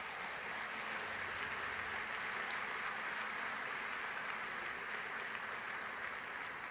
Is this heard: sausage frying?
no